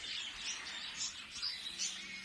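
Budgies and canaries in aviary enclosures chirp and twitter continuously, a dense bright wash of overlapping high calls with small swells in loudness, fairly quiet and steady throughout.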